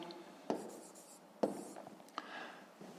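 Handwriting on paper during a fifth-grade maths exercise: quiet scratching pen strokes with a few sharper taps as marks are made, close and soft in an otherwise silent room.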